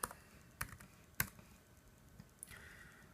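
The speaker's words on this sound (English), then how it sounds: "So we've typed a few answers" Answers are being typed on a MacBook keyboard: a handful of sparse, quiet key taps separated by pauses, close up and without talk.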